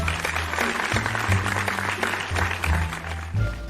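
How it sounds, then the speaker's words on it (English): Classroom applause welcoming a new student, a few seconds of steady, fairly close clapping from a group, with a low musical drone underneath. "A round of applause, as we give a warm welcome to Ashley."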